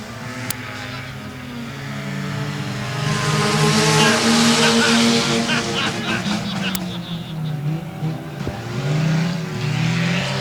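Race cars roar around the 281 Speedway track, engines rising and falling as they pass through the backstretch, loud and sustained, with a commentator talking over the noise.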